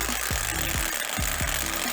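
An impact wrench drives a press tool to seat a crank pulley onto an engine during an LS swap build, a loud continuous rattling hammer with rapid repeated blows, close up.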